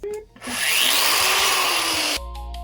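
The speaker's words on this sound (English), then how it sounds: "we're just going to cut it off with an angle grinder" An angle grinder cuts through a supercharger pulley from a Mini, a loud sustained metallic whine with bright scraping that holds steady for about two seconds before cutting off, with brief quieter handling sounds either side.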